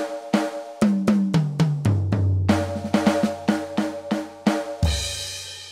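A jazz-style drum kit sample from an e/MERGE electronic drum module plays alone: a run of tuned tom hits stepping downward in pitch, a few snare and kick strikes, then a sustained cymbal wash at the end.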